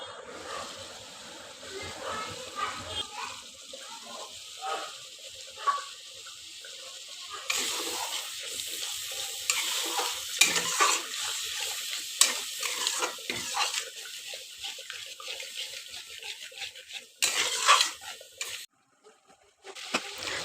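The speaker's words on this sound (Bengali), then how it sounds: "পরিমাণ মতন টক দই ফেটিয়ে নিয়ে তার মধ্যে দিয়ে বেশ কিছুক্ষণ নাড়াচাড়া করতে হবে" Chicken masala stirred in a pan with whisked sour yogurt over low heat, a steady scraping stir under a soft sizzle, with brief splashes of running water and occasional background voices.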